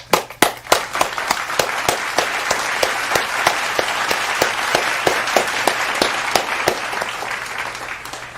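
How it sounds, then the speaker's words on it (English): Audience applause at a live music studio showcase, steady clapping from a crowd that stays loud and dense throughout, with sharp individual claps standing out. "Can we have applause to the engineer and helper"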